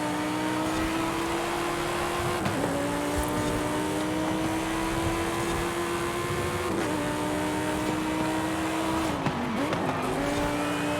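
A Porsche Panamera Turbo races in Forza Horizon 5, its engine a loud, continuous high whine that climbs through gears with brief dips at shifts, tires squealing through corners.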